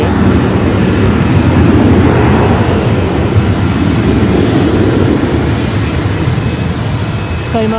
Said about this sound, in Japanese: スカイマークがまた頑張ってどっかの空に向かって飛び立ちましたけれどね